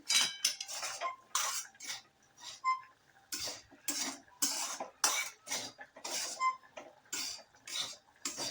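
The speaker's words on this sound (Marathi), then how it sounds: "आणि चांगलं हलवून घ्यायचं आहे." A fasting potato dish with red chilli powder and crushed peanut powder is stirred in a pan, with close, rhythmic scraping and clattering strokes of a spoon against metal, repeated in quick bursts with short pauses.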